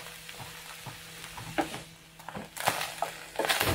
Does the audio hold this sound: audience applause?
no